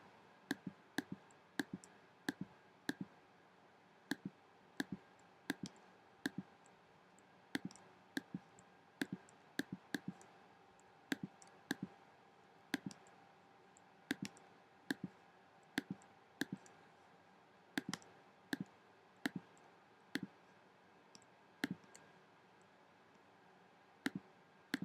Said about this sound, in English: she's clicking all this away